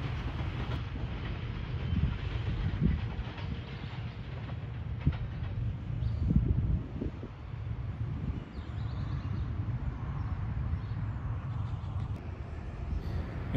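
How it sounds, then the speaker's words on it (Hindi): The 13 Up Awam Express approaches along the Choa Saidan Shah–Kariala rail line, a low distant rumble with faint clickety-clack that swells gradually, heard outdoors with some wind and no talk. "सामने से आ रही है 13 अप अवाम एक्सप्रेस"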